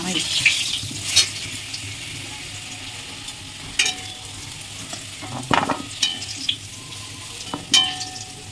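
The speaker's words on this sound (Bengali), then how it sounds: "মাংসের আলুটা ভাজা হচ্ছে" Potatoes for a meat curry fry in hot oil with a continuous soft sizzle, punctuated by sharp scrapes and clatters of a spatula stirring the pan; there is no speech.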